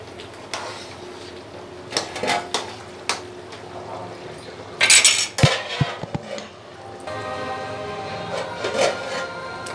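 A spoon scrapes and clinks against a pot while bottle gourd curry is stirred, with scattered metallic taps and clatters, a louder burst of scraping midway, and a faint hum underneath.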